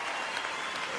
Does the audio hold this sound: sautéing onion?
no